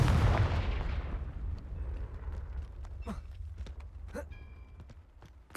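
A Confringo spell blast in a video game opens with a heavy booming burst that decays over a second, followed by scattered sharp pops, clicks and faint chimes.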